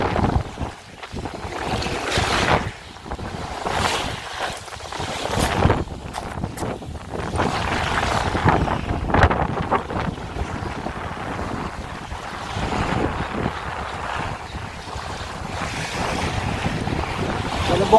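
Strong wind from a strong northeast monsoon roars across the microphone on a boat at sea, with rushing water and waves slapping steadily beneath the gusts.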